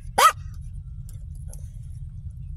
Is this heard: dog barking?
yes